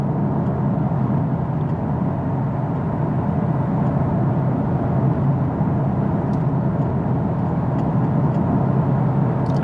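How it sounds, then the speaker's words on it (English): Steady broadband road noise inside a 2022 Genesis G70 on the move, a constant low rumble and hiss with no breaks, moderately loud and even throughout, no talking. "There's a little bit of road noise"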